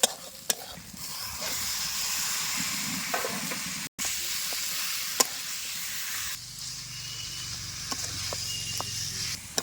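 Chicken pieces hit hot, fried-down spices for a chicken curry, setting off a steady loud sizzle with stirring scrapes throughout, a brief dropout midway, then a fuller, deeper frying hiss toward the end.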